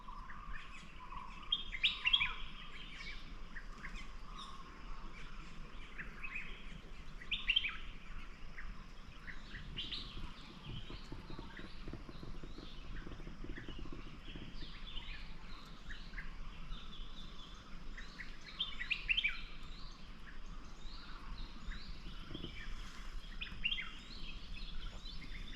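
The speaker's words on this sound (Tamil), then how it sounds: "எனக்கு ரொம்ப பிடிச்சிருந்தது இந்த காட்டுக்குள்ளே குருவிகளோட சத்தம்" Small songbirds chirp and tweet steadily throughout a quiet forest, with bright, overlapping calls at mid distance over a soft, continuous woodland background and no talking.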